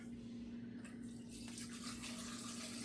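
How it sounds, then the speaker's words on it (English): Water runs from a kitchen tap into a pot of shrimp shells, a steady splashing flow that holds at an even level throughout, with no talking. "Add water to this pot where the shells are"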